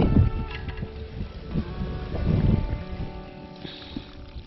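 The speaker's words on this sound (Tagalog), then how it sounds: "Sobrang hangin, lamig." Strong, cold wind roars and thumps against the microphone on Pangasinan's highest mountain in uneven gusts, a steady low buffeting with a faint higher whine near the end.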